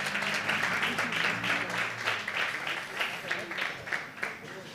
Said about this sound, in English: I think we can give her a round of applause for that